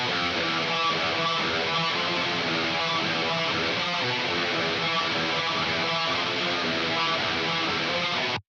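Distorted black metal rhythm guitar with no EQ applied, on a Black Metal Tones preset: a dense, buzzy wall of fast tremolo-picked chords, loud and unbroken, that cuts off abruptly at the end.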